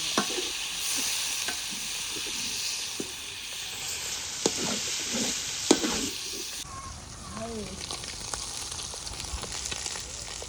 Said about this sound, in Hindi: अब मैं इसमें चिकन को अच्छा सा ब्राउन करूँगी।